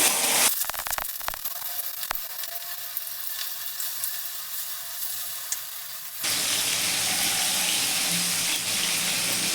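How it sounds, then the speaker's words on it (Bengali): Tuna fish pieces dropped into hot mustard oil break into a loud, steady sizzle of frying that starts abruptly partway through, after a quieter stretch of faint kitchen clatter and a few sharp clicks. "তেলটা গরম হয়ে গেছে এবার আমি এক এক করে মাছগুলো ছেড়ে দিচ্ছি"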